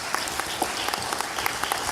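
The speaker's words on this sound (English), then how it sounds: "Big round of applause for Mr." Applause at a Trinidad land and marine resources certificate ceremony as a recipient crosses the stage, a crowd's brisk, steady clapping with sharper individual claps popping out.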